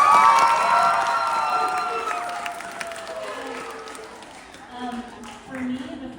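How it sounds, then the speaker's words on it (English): A school assembly audience at a White Cane Day event bursts into loud clapping and cheering with whoops, strongest at the start and gradually tapering off over several seconds. "Clap and cheer."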